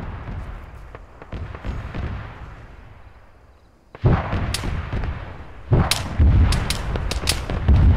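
Mortar and gunfire in the video game ArmA 3: repeated loud booming impacts and sharp gunshots, some distant and some close, coming in clusters after a brief lull.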